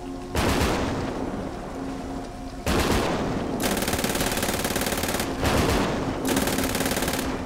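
Bursts of rapid automatic gunfire from GTA 5, loud and sustained in several long volleys separated by short pauses.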